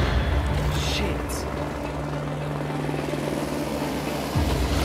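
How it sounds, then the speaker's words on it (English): A helicopter flies overhead on a remote island during an outdoor race, giving a rumbling rotor drone that holds steady for several seconds under excited voices talking nearby. "there's a helicopter. That's the helicopter."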